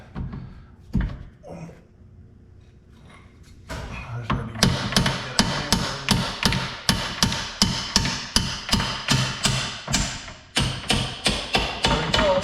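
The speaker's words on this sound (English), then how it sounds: "I think it's time to get a hammer." A few scattered knocks, then a long run of sharp, evenly spaced metal hammer blows on the front suspension of a 1993 Lincoln Mark VIII, loud and close, striking roughly twice a second.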